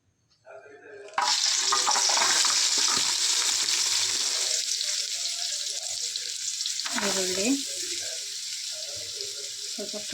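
Masala frying in a pan: a sudden loud burst of sizzling settles into a steady hiss, with a brief scrape or clink partway through, close and without talk.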